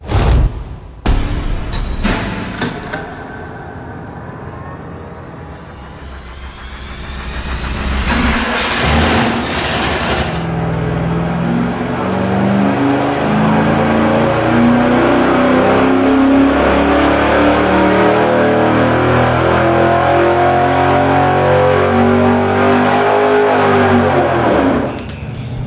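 Ford 408 stroker V8 on an engine dyno, cranking and catching with sharp bursts, dropping to a rough idle, then climbing into a loud, sustained rev that holds a heavy roar for most of the clip.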